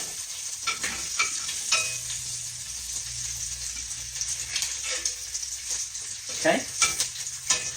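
Bacon sizzles steadily in a pan of hot grease with scraping stirs and intermittent crackles, close and continuous, while someone speaks briefly.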